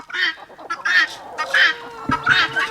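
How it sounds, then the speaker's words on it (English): A young backyard hen from a home flock makes a series of short, nasal clucks and honking calls in quick bursts with brief pauses, close and fairly loud, with some rustling underneath. "So this little chicken, she actually hatched from one of our eggs this summer from our own flock"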